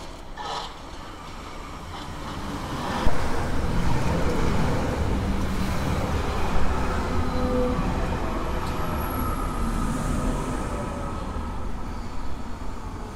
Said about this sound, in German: Wie man hört, verläuft hier die U-Bahn-Linie direkt neben der Bahnstrecke Nürnberg-Fürth.